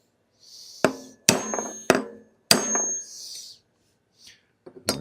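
Sharp metallic clunks and knocks from a 1964 Ford Mustang drum brake system as the brake pedal is pumped and bottoms out, four or five distinct hits with brief rattling tails, close and alone in a quiet space.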